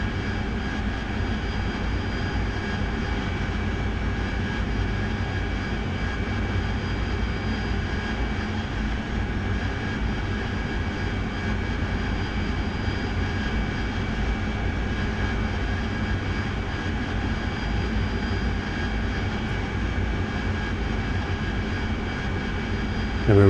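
Jet aircraft engine in the flight sim DCS World, held on throttle with a heavily loaded aircraft: a loud, steady, unbroken roar and whine that holds level for the whole stretch.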